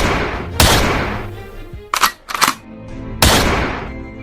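Gunfire from a fight in the video game Free Fire, a few sharp loud bursts of shots separated by pauses, with a low game background underneath.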